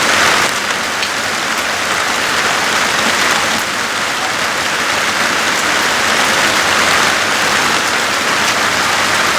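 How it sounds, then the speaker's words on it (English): Steady heavy rain pours onto a surface nearby, a loud, dense, unbroken hiss with no voices. "Look at this rain, eh?"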